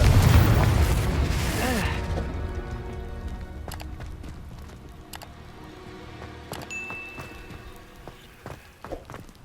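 A Confringo blasting spell in the Hogwarts Legacy video game erupts in a loud, dense burst that rumbles and fades over about two seconds, followed by scattered sharp ticks and small crackles against a low ambient bed.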